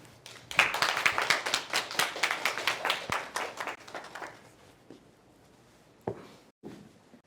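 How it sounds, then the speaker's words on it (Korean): Audience at a university talk applauds a nursing professor and author being introduced, a burst of claps from a modest crowd that fades out over several seconds, leaving a few scattered claps. "자, 그럼 박수 부탁드립니다."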